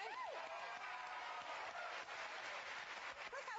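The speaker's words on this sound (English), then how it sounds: "Look how supportive Elisa is being, clapping for you already" Studio audience on a daytime talk show clapping and applauding, a dense steady wash of claps with faint cheering and voices mixed in, sustained throughout.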